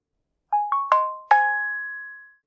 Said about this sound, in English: There's a new notification sound